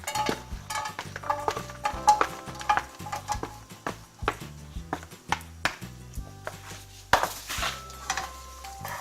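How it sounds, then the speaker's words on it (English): Chinese sausage frying in under a tablespoon of oil for Malaysian special fried rice, with repeated close metallic clinks and scrapes of a utensil against the pan over a faint low sizzle, no talking. "Proceed to fry your Chinese sausage."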